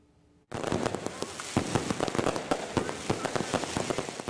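Rapid crackling bursts of small backyard fireworks popping continuously around July 4th, dense and fairly loud, with sharp irregular bangs after a brief quiet start.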